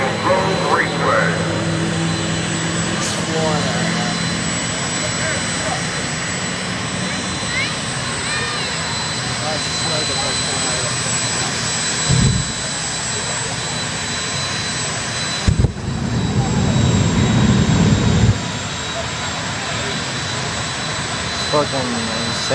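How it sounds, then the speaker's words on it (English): Jet-powered funny car with afterburner at a drag strip, a steady loud jet roar with sharp surges and bursts of thunder near the end. "Jet-powered funny cars at Maple Grove Raceway."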